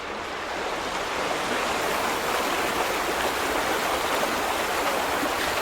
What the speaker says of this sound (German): Da kommt jetzt nicht mehr so viel Wasser raus.